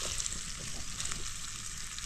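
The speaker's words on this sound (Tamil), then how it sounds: "கிழங்க போட்டாச்சு இப்போ நல்லா கிண்டி வதக்கிக்கிறோம்" Kotti kizhangu tubers frying in oil with masala, a steady dense sizzle with occasional scraping stirs, close and continuous with no talking.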